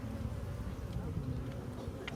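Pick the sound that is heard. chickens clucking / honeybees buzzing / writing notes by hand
honeybees buzzing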